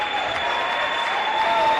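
Fans cheer at a Division III men's basketball conference semifinal, Rose-Hulman against Franklin: a dense, steady roar of crowd noise and clapping that fills the whole moment without letup.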